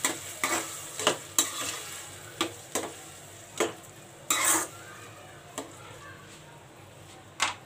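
Onions sautéing in a pan at home for baingan bharta, with a steady low sizzle and a series of sharp, close scrapes and clinks from a stirring utensil at irregular intervals.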